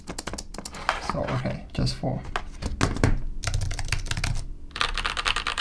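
Keys clatter on a standard Mac keyboard in quick, uneven bursts of close clicks, with a person talking over the typing.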